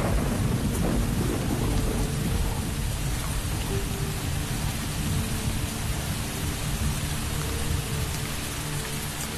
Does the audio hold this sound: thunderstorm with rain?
yes